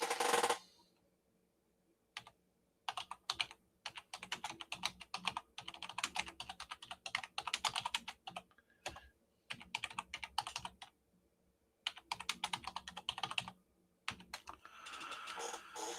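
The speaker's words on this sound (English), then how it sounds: "I typed it in, and as I was typing it" Rapid clattering keystrokes on a computer keyboard come in irregular bursts separated by short pauses, close and fairly quiet, with no talk.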